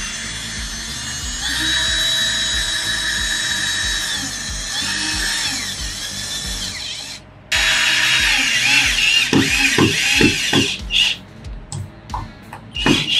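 A power drill drives screws to mount a metal door latch and padlock hasp plate. Several whirring bursts of varying length are separated by pauses, with ratcheting clicks and sharp taps near the end.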